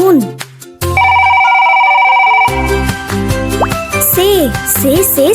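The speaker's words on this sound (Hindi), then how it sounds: "टे से टेलीफोन।" A telephone ringing sound effect plays in a children's Urdu alphabet lesson: a loud, sustained electronic ring lasting over a second, set among cheerful background music, playful effects and a voice speaking.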